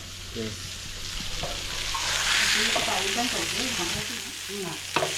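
Pomfret and bombil fish frying together in a pan give a steady, close sizzle with faint scraping and a sharp clink near the end, while low voices murmur in the background.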